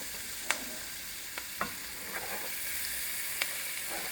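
Butter sizzles softly in a pan for chicken pot pie casserole, a steady low frying hiss broken by a few faint clicks and stirring taps, with no one talking.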